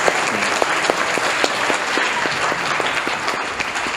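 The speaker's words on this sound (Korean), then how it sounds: "우리가 크게 박수로 축하합니다." Congregation applause at a Sunday church service: a loud, continuous roar of many people clapping, with some rhythmic claps standing out within the steady wash of sound.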